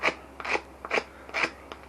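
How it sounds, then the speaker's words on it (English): Dry scraping of a salted whitetail deer leg hide: four or five short, rasping strokes at a steady rhythm, close and fairly quiet, with brief pauses between each pass. "See, dry scraping"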